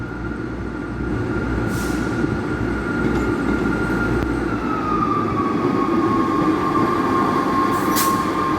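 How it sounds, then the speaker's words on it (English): A train to Edinburgh rumbles loudly into Aberdeen station, a long squealing tone from its wheels or brakes sliding downward as it slows, with brief hisses. "And here is the train back to Edinburgh."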